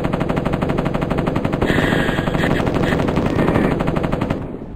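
An M60 machine gun fires a long unbroken burst of rapid, dense shots in the 1995 video game Mortal Coil: Adrenalin Intelligence, loud and close, then cuts off at the end.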